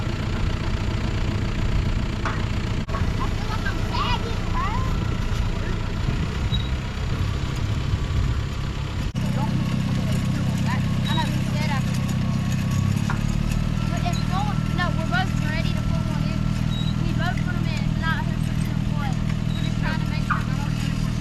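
A tractor engine runs steadily while planting fall vegetables, a low continuous rumble that grows heavier partway through, with voices talking over it and intermittent chirping and clicking in the background.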